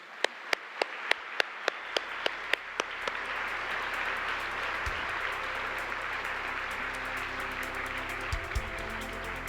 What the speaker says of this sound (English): please join me in giving the class of 2022 Scholar and Veteran Award recipients another round of applause